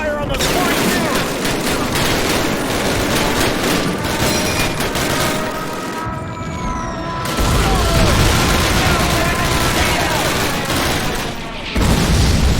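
Dense gunfire in a Call of Duty battle plays up close and loud, with overlapping rifle and machine-gun bursts and booms running nearly continuously, and voices shouting through the fighting.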